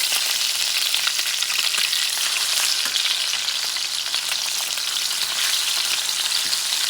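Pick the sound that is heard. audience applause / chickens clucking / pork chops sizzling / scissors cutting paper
pork chops sizzling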